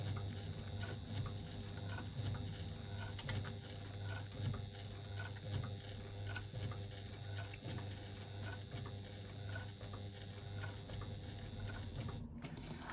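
A sewing machine runs steadily, stitching a wristlet at a slow, careful pace, its low mechanical hum and faint ticking continuous for about twelve seconds before stopping near the end.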